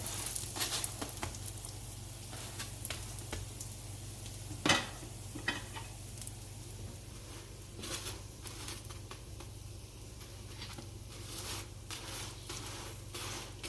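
Trinidadian dosti paratha roti cooks on a hot tawa with a faint, quiet sizzle, broken by scattered light taps and scrapes of a utensil.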